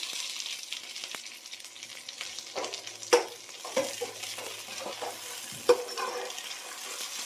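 A little mint is sautéed in a pan with other ingredients for a pulao, giving a quiet, continuous sizzle broken by spatula scrapes and a few sharp metallic knocks against the pan.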